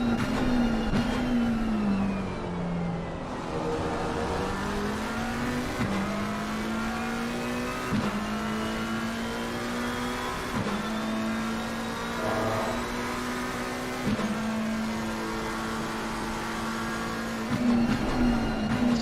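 McLaren and Audi GT race cars in Assetto Corsa Competizione at Kyalami drone steadily, revving up through the gears with repeated shift steps, loud and close without talk.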